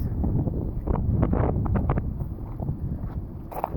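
Wind blows steadily outdoors on a warm, pleasant walk near windmills in Palmela, a continuous low rushing buffeting the microphone, close and fairly loud with no talk.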